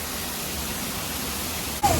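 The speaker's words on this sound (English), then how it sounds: "Right behind the waterfall." Steady broadband roar of a waterfall in the Brecon Beacons, heard from a spot right behind the falling water, a loud continuous wash that swells briefly near the end.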